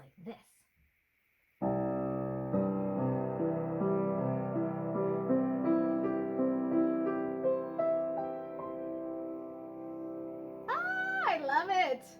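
A rich piano chord played with the sustain pedal held rings out and sustains, its notes blending and overlapping as they decay slowly, followed by a brief higher warbling sound near the end.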